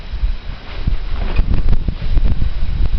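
Breezy outdoor wind buffets a handheld microphone while walking alone, a steady low rumble with gusting swells and rustle throughout, close and fairly loud.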